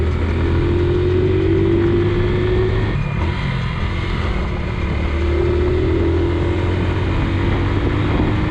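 A motorcycle engine drones steadily while riding, close and loud, holding an even hum with slight pitch rises and falls, broadband wind or road noise mixed in, no talking.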